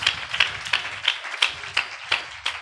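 A congregation at a Christian church service clapping in a steady rhythmic beat, about three claps per second, moderately loud with a little background murmur.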